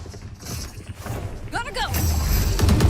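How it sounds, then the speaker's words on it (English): Weapon reloading in a competitive video game, a quick run of mechanical clicks and metallic clacks amid game ambience, while a voice talks over it. "Reloading."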